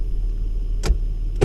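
Two short, sharp clunks from a Toyota driveline u-joint sound as the transmission is shifted into drive, heard over a steady low engine idle.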